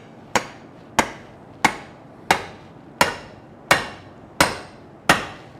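Eight sharp, evenly spaced hammer blows ring out on metal at a blacksmith's forging session, each strike loud and close with a brief ringing decay.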